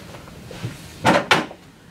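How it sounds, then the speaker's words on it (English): Two quick knocks and thuds as the lid of a Tailormade Gemini cabinet is lifted and its door swung around, a pair of close, short bumps about a quarter second apart in a quiet room. "So you lift the lid like so, bring around the door"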